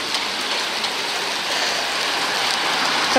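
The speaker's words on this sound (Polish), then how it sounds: "Szumi fajnie. Nie, znaczy dobrze, że pada" Steady rain falls outdoors, a dense, even hiss of drops that holds constant and close throughout with no voices.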